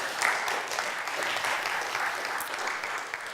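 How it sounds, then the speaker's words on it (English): Audience applause fills the room in a steady, dense patter of many hands clapping, moderately loud and continuous throughout with no talking over it. "Round of applause for these guys."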